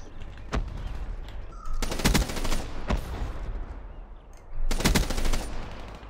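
Sharp gunshots ring out in the video game Call of Duty: Black Ops III, with two dense bursts of rapid automatic fire between single shots, fairly close and loud; no voices.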